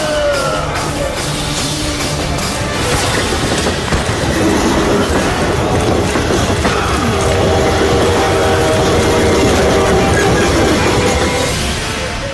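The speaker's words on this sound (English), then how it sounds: "just as the train thunders toward the station" A train rumbles loudly and continuously, wheels clattering on the rails as it rolls into a station, with metallic squeals rising over the din.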